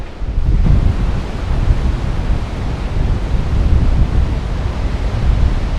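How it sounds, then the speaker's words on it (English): Strong wind blowing at the river mouth of a beach on a cloudy, murky morning, roaring steadily and loud against the microphone with crashing surf blended into a continuous broadband rush that never lets up. "Conditions are pretty windy."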